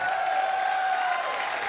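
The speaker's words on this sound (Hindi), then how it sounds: "जोरदार तालियों से स्वागत कीजिए" An audience in a comedy TV show studio gives a short burst of loud, steady applause with a faint cheer underneath, no talk.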